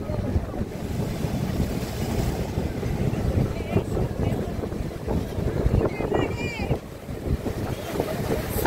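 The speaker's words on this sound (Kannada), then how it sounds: "ಅಲೆಗಳು ಮಾತ್ರ ಹೆವಿ ಬರ್ತಿದೆ." Heavy sea waves surge and wash against the rocks at a Pondicherry beach, a loud continuous roar mixed with wind buffeting the microphone and faint voices of people nearby.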